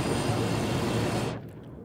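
Helicopter in the video game Ghost Recon Wildlands, a steady, loud roar of engine and rotor that cuts off abruptly partway through, leaving near silence.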